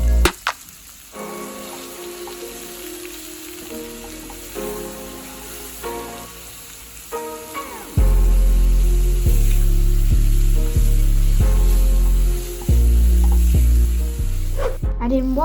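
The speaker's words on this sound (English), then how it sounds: "Fry for around 30 seconds until the bitter smell of the garlic disappears." Green chillies with garlic and ginger paste sizzle loudly in a pan for a BIR-style chilli garlic paneer, a steady hiss of frying that swells louder midway, with occasional stirring scrapes.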